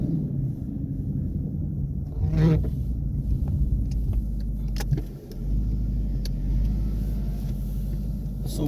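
A 2016 Ford Mustang GT backs up through deep snow on Blizzak WS90 tires, a low engine rumble inside the car with a brief surge of revs and muffled knocks and thumps, heard from the cabin.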